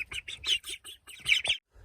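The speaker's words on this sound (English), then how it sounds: "The baby ducks are getting big." Baby ducks calling in a wilderness lakeside setting, a quick run of close, high-pitched peeping chirps, about a dozen short calls in uneven rhythm, clear and alone.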